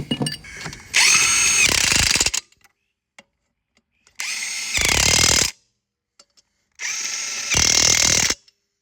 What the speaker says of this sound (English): Get your lug nuts going.